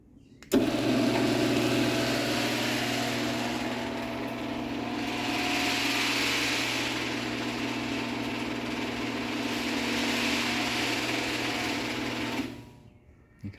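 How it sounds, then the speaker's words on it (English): Genie H6000A garage door opener fitted with a replacement motor runs steadily for about twelve seconds, giving a smooth mechanical hum and whir that starts abruptly and winds down at the end. "You can also hear it is quieter with this other motor in it as well"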